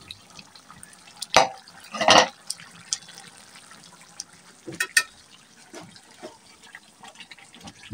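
Broiler chicken simmers in a pot full of its own released water as a spoon stirs it, giving two wet sloshing scrapes early on and softer splashes later, fairly quiet and close.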